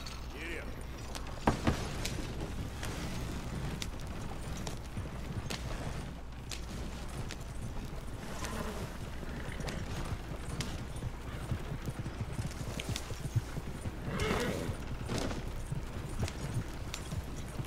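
Horse hooves clip-clop steadily as a team of two horses pulls a coach in Red Dead Redemption 2, a continuous rhythmic trot with wheel creaks and background game noise throughout.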